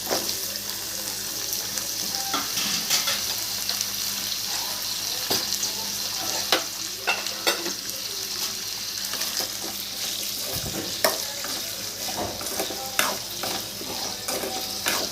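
Ingredients sauté in a pan for a Tamil fish curry made with spices ground on a stone mortar, giving a steady low sizzle with frequent sharp clinks and scrapes of a spatula, plus occasional running water, close by, with no talking.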